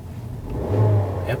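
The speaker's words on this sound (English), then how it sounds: "engine is actually on." A Suzuki Vitara compact SUV engine idles quietly, a low, soft hum that swells slightly midway, with faint background noise and no clear voices.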